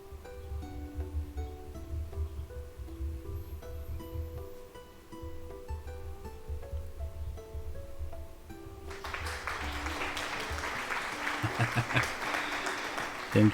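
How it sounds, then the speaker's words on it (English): Music plays for several seconds, then a burst of applause breaks out and continues loudly to the end, over the fading music. "I get applause a lot this morning"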